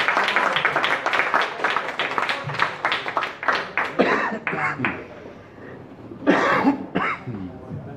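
Dense audience applause fills a live jazz concert at the Cotton Club in Rome, then thins into scattered claps. A voice and brief bursts of crowd noise break in near the end.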